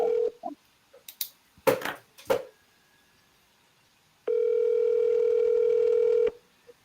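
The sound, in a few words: telephone call ringing before voicemail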